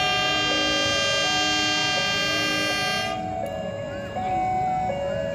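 A long, steady horn blast from the locomotive of the Probowangi train sounds close by, holding one tone for about three seconds, then fading into rumbling rail and station noise.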